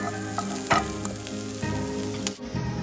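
Chopped shallots, onions and thyme sizzle steadily in a hot pan, a close, constant crackling fry with occasional stirring scrapes.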